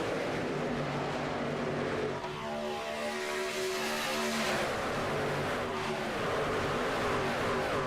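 Stock car engines roar at full throttle in a pack during a racing game event at Talladega, a steady loud drone with shifting pitch as cars run nose to tail, no talk over it.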